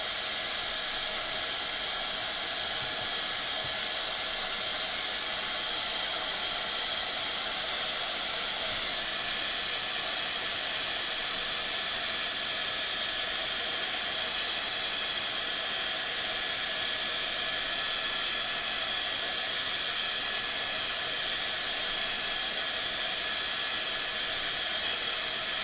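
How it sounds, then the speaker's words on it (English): A heat gun blows steadily on MDF board to dry it, giving a continuous loud hissing roar that rises slightly partway through and holds with no speech. "give it a very quick blast with the heat gun to make sure it's completely dry before I turn it round"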